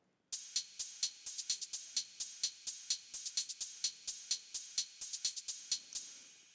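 Electro House drum kit playing a layered beat, with a bright ride cymbal stacked on each kick, a steady run of sharp evenly spaced hits that is loud and close, with no voices.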